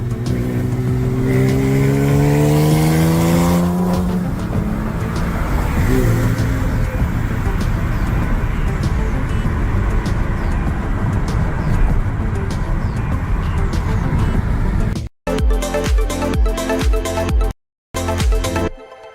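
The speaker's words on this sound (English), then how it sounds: "Supercar street racing here" A supercar engine revs loudly on the street, a rising, throaty roar close up that settles into a sustained rumble, followed by a few choppy bursts near the end.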